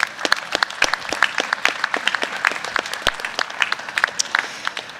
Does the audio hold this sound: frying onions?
no